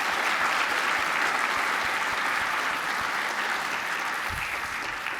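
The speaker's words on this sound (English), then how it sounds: "How about a round of applause" A seated audience gives a sustained round of applause, a steady dense roar of many hands clapping that stays loud and even throughout with no voices over it.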